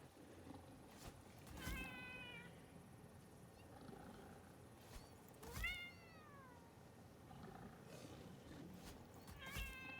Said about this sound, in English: Why do they meow like that?